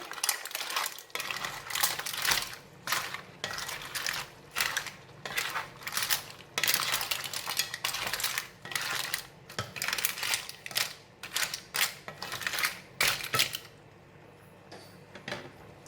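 Clams (lala) stir-fried with chilli and basil leaves in a wok, a steady series of metallic scrapes and clinks from the spatula against the pan, repeated rhythmically over a low background hum, close and fairly loud with no talking.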